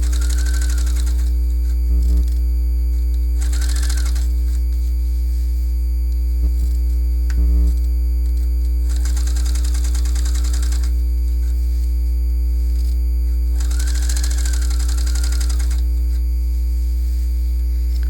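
Sewing machine top stitching yoga pants, with bursts of rapid stitching separated by pauses over a steady loud electrical hum.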